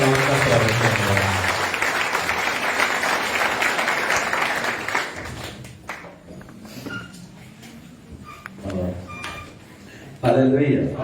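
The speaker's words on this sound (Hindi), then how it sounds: "आए हम जोरदार तालियों से खुदा के फादर का और खुदा के कलाम का स्वागत करते हैं।" A church congregation breaks into loud, dense applause that lasts about five seconds, then thins out into scattered claps and quiet while a voice speaks, and a final burst of sound comes near the end.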